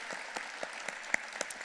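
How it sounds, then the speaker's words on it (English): Audience applause at an education foundation's awards dinner, a dense steady clapping from a roomful of people with sharp individual claps standing out, continuing without voices on top. "Let's give TheaterWorks a round of applause."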